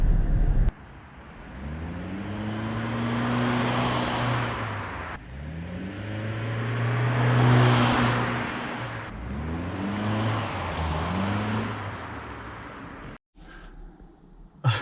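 Toyota Prius engine revving in three long surges with a turbo exhaust whistle fitted, a thin high whistle rising and falling over each rev, close and loud, then a brief quieter pause near the end.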